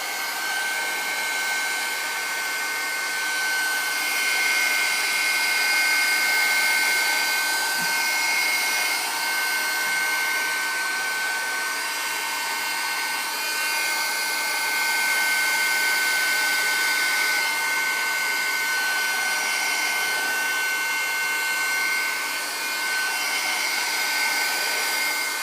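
A hair dryer blows steadily and fairly loudly on glue drying over a handmade craft piece, its even whirring hum holding for the whole stretch with no voices over it.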